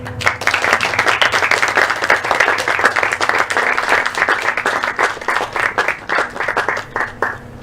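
Loud applause at a 2020 school-leaving certificate ceremony, with many individual claps standing out in a brisk, uneven rhythm. It thins slightly toward the end while staying close and strong.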